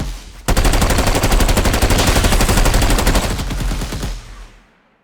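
AI enemies in a 3D game level fire guns in a straight line, producing a loud, rapid, continuous burst of machine-gun fire that runs about four seconds, then cuts off with a fading tail.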